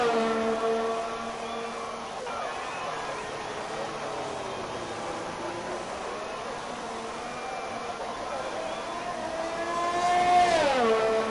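Formula 1 race car engines in an F1 racing video game at the Belgium Grand Prix, a sustained high-pitched whine holding steady, then sweeping down and back up near the end as a car shifts and passes, with a commentator talking over it.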